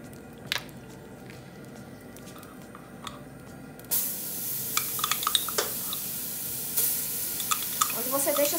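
Quiet background noise with faint clicks, then chicken starts sizzling in a hot pan with browning seasoning, a steady crackling fry with scattered pops and spatters.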